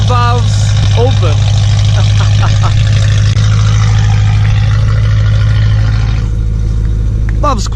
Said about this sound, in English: this is the idle with the valves open